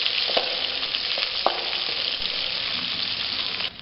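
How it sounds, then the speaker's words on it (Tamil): Chopped shallots sizzle steadily in a pan for egg poha, with a few short scrapes and clicks as a spoon stirs them. The frying is close and continuous, and no one speaks. "எல்லாத்தையும் சேர்த்து நல்லா கிளறி விட்டுக்கலாங்க."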